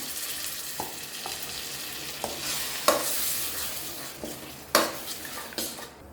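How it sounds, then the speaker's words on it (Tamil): Steady sizzling from a hot pan as tamarind water is added for a Madurai ayirai fish curry, with a few sharp clinks and scrapes of a utensil against the pot along the way. "அந்த புளி தண்ணியை இது கூட சேர்த்துக்கிறேன்."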